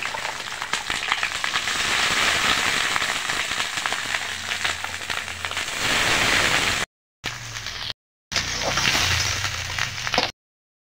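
Onion stalks and green chilies go into a carp fish curry cooking on a clay stove, giving a loud, steady crackling sizzle with a few brief gaps near the end.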